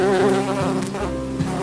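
A voice imitates a buzzing bee, a steady droning hum with slight wavering pitch lasting under two seconds, close and fairly loud.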